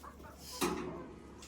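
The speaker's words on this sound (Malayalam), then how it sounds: "ദേ കോഴി കയറുന്നു. കോഴി പോടാ." A soft cluck from a chicken, close but quiet, over a low background hum.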